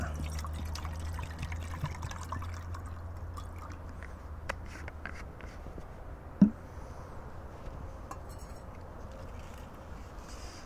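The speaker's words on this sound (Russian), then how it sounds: "Так, наливаем водичку." Water poured from a container into a pot set on a windproof field stove while preparing a military ration outdoors, a soft steady trickle that ends with a single sharp clink.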